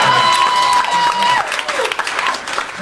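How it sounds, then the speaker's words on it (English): A comedy club audience breaks into loud applause and cheering, dense clapping at first that thins into scattered claps and whoops, with a high whistle in the early part. "Crowd goes crazy."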